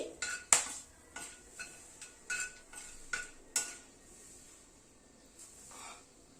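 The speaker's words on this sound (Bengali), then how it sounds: "ফোড়নটাকে একটু ক্র্যাক করিয়ে নিচ্ছি।" Cinnamon, cardamom and cloves crackling in hot oil and ghee: a quiet run of sharp, irregular pops and clicks over faint sizzling, close by, with occasional utensil scrapes and the popping thinning out toward the end.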